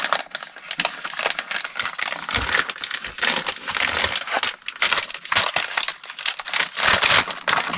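Small plastic packs crinkling and crackling as they are packed tightly between each other into a bag, a dense continuous rustle of close, irregular crumples throughout, no speech.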